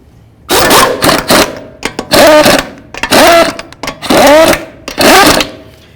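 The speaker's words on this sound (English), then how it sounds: "Start on all your lug nuts and then bottom them out." A power tool spins lug nuts onto a 2005-14 Ford Mustang wheel in five or six loud, close whirring bursts separated by short pauses.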